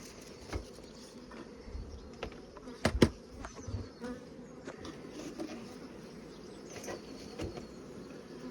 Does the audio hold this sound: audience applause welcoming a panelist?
no